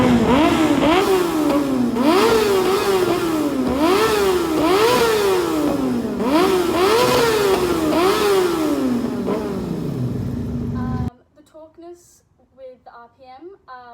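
A Yamaha YZF-R6 sport bike with an aftermarket exhaust revs repeatedly, its pitch rising and falling in a steady series of climbs over a constant idle tone, then cuts off into faint background sounds and a voice.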